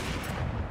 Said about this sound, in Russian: это тот момент, когда снайперская винтовка действительно пригодилась